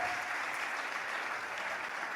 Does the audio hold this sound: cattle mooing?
no